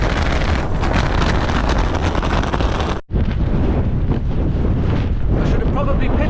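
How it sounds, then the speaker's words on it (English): Strong stormy wind blowing against the back of a pitched tent, a loud continuous roar and buffeting with the tent hood rattling, close to the microphone, with a brief drop midway. "the wind's blowing straight on the back of the tent. It's really rattling this hood bit here."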